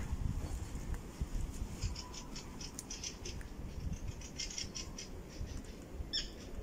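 Small birds chirp and twitter in short high bursts near the Klyazma River at an abandoned water pumping station, over a steady low rumble of outdoor background noise, with no voices.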